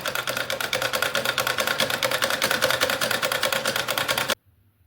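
Domestic sewing machine stitching a small Holi dress for a Laddu Gopal idol, a fast, steady mechanical rattle running continuously up close for about four seconds before stopping abruptly.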